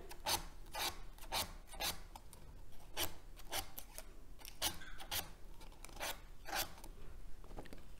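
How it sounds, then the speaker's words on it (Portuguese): Scissors snip paper for a children's craft, shaping a curl for a paper butterfly's antenna, giving a steady run of sharp, close rasping cuts repeated across the whole stretch with no talking. "fazer com a tesoura para deixar uma voltinha bem bacana"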